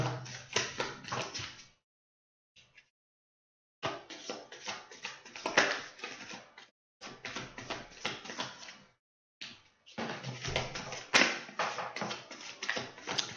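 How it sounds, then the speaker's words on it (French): Tarot cards shuffled by hand in repeated bursts of dense papery riffling and flicking, close and fairly loud, separated by short pauses of near silence. "je prends les cartes, je mélange"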